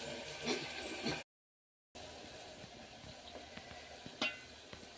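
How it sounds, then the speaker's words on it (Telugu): Masala being stirred in a cooking pan gives a soft, faint sizzle with scattered scraping taps, broken by a brief silent gap. "మసాలా ఇంకో తిప్పాలి"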